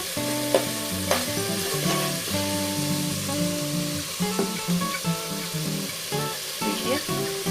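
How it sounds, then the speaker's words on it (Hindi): Masala spices sizzling in hot oil for a mutton korma, a steady frying hiss with occasional stirring scrapes, partly under background music. "देखिए हमारा मसाला जो है वो तेल छोड़ने लगा है, इसका मतलब कि मसाला पक रहा है।"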